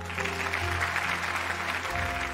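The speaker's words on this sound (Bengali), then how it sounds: "রায়ের জন্য একটা জোরে হাততালি হয়ে যাক" Steady audience applause fills a stage event, a dense even patter of many hands that holds for the whole stretch over a low sustained hum, with no one speaking.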